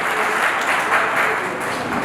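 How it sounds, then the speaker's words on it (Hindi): Audience applause at an agricultural event in Rajasthan as a Krishi Vigyan Kendra coordinator is called to the stage: dense, steady clapping from a crowd, continuous and fairly loud for the whole stretch. "जोरदार तालियां आपकी बनती रहनी चाहिए।"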